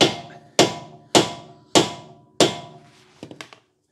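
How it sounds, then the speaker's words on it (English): Five sharp, ringing metal strikes of a hammer on the end of a screwdriver at an even pace, close and loud, followed by a few quick lighter taps, during Mazda CX-7 rear brake work. "hit the end of the screwdriver with the hammer"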